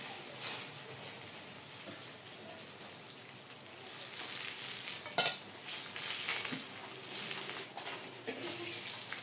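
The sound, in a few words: fish frying and sizzling in a pan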